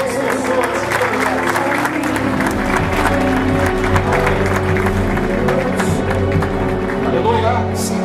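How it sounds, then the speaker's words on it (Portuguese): Applause from a parliamentary swearing-in ceremony audience with an evangelical crowd, dense sustained clapping filling the room, with voices and crowd noise mixed in throughout. "Agora com as palmas a Jesus"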